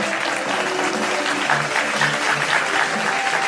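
Steady, dense audience applause fills an alumni meet hall, many hands clapping at once, loud and continuous throughout without a break or any speech.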